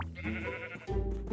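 Minecraft sheep bleating, two nasal baas in quick succession, close and clear with nothing else around them.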